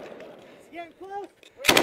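Combat gunfire in Afghanistan: shouting voices come first, then a sudden loud, close blast of shots bursts out at the very end.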